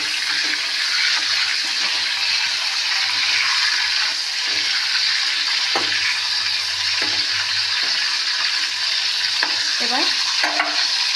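Food fries lightly in a pan with a bright continuous sizzle while a utensil stirs it, scraping and clinking at intervals; a brief spoken word comes near the end.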